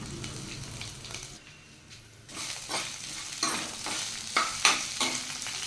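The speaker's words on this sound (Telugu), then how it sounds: "ఒక spoon to one and half spoon oil వేసుకుని మినపప్పు వేసుకుని దోరగా వేయించుకోండి" Urad dal and green chillies frying in a spoon or so of oil while being stirred: steady close sizzling with scraping stir strokes and sharper crackles that build toward the end.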